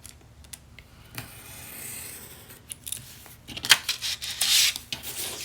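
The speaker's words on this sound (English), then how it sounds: "I just use my straight edge and the X-Acto knife to cut out the" An X-Acto knife draws along a straight edge through a cardstock patch-pocket pattern, giving quiet scraping strokes that grow into a few sharper, louder rasping cuts near the end.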